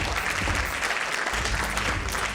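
Audience applause at a business fireside chat event, a steady, dense wash of clapping from a large crowd filling the whole stretch without pause.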